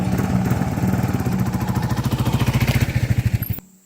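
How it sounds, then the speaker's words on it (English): The engine of a Kawasaki KLR 650 motorcycle runs close by with a steady, throbbing pulse that quickens and grows louder toward the end. Then it cuts off abruptly into near silence. "today you saw me riding my motorcycle in here"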